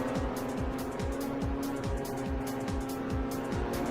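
A loud race car engine in the video game Ridge Racer 7 drones continuously, revving in repeated rising sweeps as gears change, with faint tire noise underneath.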